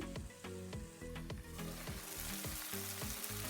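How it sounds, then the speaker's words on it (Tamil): Tomatoes sautéing in a covered pan for a Jaffna-style prawn curry give a steady, close sizzle under prominent rhythmic background music. "இப்போ தக்காளிக்கு மூடி போடுவோம். கொஞ்ச நேரம் வதங்கட்டும்."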